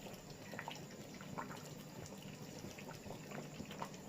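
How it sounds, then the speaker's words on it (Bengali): Hot water pours into a pot of Bengali-style mutton curry, a steady close trickle and splash with small drips, no voices. "এবার আমি গরম জলটা দিয়ে দিলাম"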